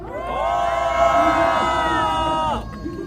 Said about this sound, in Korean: 힘차게 박수로 모셔보도록 하겠습니다